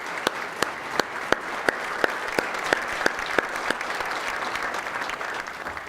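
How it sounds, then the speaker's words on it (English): Banquet audience applauding a string quartet of violin, viola and cello at an awards of excellence dinner, a steady wash of sustained clapping with a few sharp, close claps standing out at regular intervals. "How about a round of applause for their music so far?"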